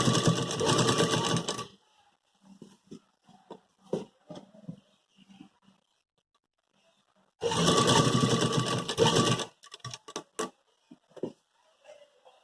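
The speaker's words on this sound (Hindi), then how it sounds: "ध्यान रहे ये सिलाई जो होगी हमारी पट्टी सिलाई होगी।" A sewing machine stitches the placket strip of a collared suit in two sustained, loud runs, each a couple of seconds long, separated by quiet handling clicks and faint rustling of fabric.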